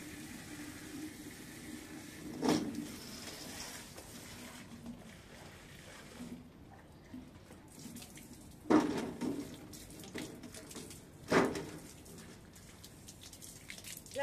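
Faint running tap water flows steadily in a home while a carpet is washed, with a few louder splashes and thumps breaking through the low continuous hiss.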